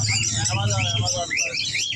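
An Amazon parrot at a busy bird and animal market gives warbling, squawking calls up close, layered over crowd voices and a steady low hum.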